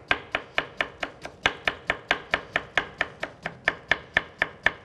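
A knife chops lemon into small cubes on a board, making a steady, evenly spaced run of crisp, close knocks, roughly four per second, with no voices.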